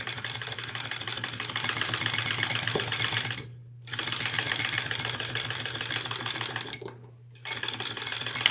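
A sewing machine runs reinforcement stitches on a backpack, a close, rapid mechanical whirring that runs steadily, stops briefly twice, then starts up again, with no talking.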